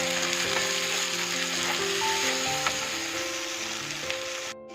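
Tomato paste frying in a pan, a steady bright sizzle running throughout with a few faint utensil clicks, while a tonal background hum sits underneath before a sudden cutoff at the end.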